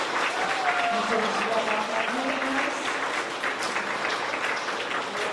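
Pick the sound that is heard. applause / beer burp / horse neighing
applause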